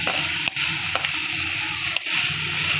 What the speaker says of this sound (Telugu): ఇది కొంచెం ఫ్రై అవ్వాలండి, హై ఫ్లేమ్ మీదే ఫ్రై చేసుకోవాలండి